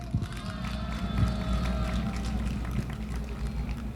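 A rally crowd in Korea claps and cheers loudly and continuously, a dense wash of applause with a few shouts mixed in.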